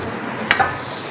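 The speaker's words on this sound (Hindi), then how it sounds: "मैं इसको तकरीबन कोई 1 मिनट तक और इसको फ्राई करूँगी" Tomato and masala fry in a pot under a soft sizzle, with a brief pair of scraping stirs in the middle.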